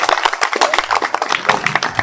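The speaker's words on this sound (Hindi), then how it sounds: "गुलाम भाई के लिए तालियां हो जाए।" Applause from a neighborhood committee gathering for Ghulam Bhai, the newly named president, a steady patter of many hands clapping close by for about two seconds with no talk.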